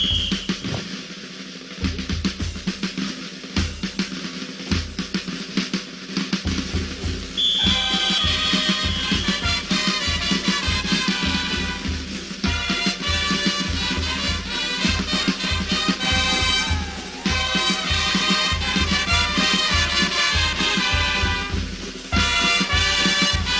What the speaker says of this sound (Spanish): Y la música de la Tirana suena así,